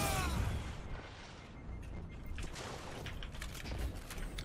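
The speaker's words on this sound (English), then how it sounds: "Shotguns, man." Shotgun blasts ring out in a competitive Destiny 2 match, several sharp cracks over dense, continuous game noise and effects.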